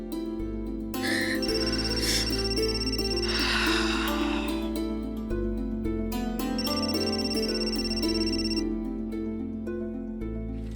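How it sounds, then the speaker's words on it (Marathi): A telephone rings in a Marathi TV drama scene: two long bursts of repeated electronic ringing over steady background music, with a short gap between them. "गरजांचा फोन आहे,"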